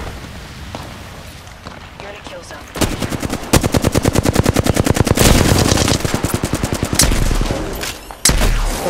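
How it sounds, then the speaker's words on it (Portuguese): Bursts of rapid automatic gunfire in Apex Legends rattle almost continuously, loud and close, with a few single sharp shots; voices talk briefly underneath. "Estão trocando tiro, calma."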